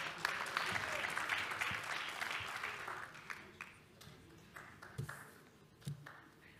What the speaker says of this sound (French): Voilà, et on les applaudit.